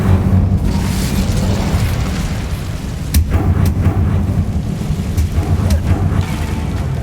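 Incendio fire spell blasts in the video game Hogwarts Legacy, loud rumbling bursts and booms with several sharp cracks over a continuous low roar.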